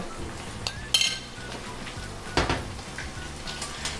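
Crushed garlic and ginger sautéing in a pan for a squid roast, a low sizzle under sharp metallic clinks and scrapes of stirring.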